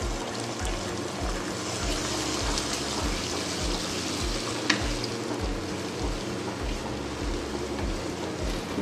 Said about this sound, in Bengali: ডিমটা আমার ভাজা হয়ে গেছে,